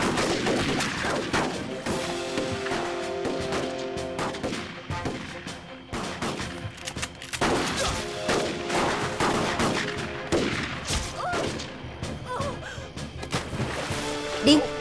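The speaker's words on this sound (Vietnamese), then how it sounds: "Nổ súng." Gunfire in a dramatized anti-Japanese war battle, with repeated sharp shots and bursts crackling throughout, loud and close, amid busy mixed battle noise.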